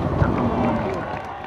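A large crowd cheers loudly and continuously at the finish of a road bicycle race, the final climb of a pro tour event, a steady broad roar with voices mixed in throughout.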